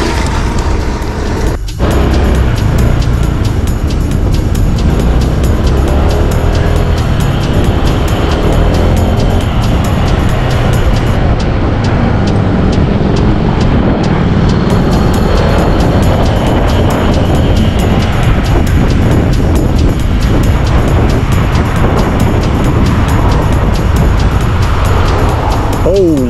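Loud, continuous rush of road traffic and passing cars surrounds a rider on a 2021 Honda PCX scooter in Japan, a dense wash of engine and tyre noise with a voice talking now and then.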